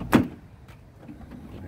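The power sliding door of a 2011 Toyota Sienna LE minivan closing on one touch: a single sharp thud near the start, then a faint low mechanical hum, no talk.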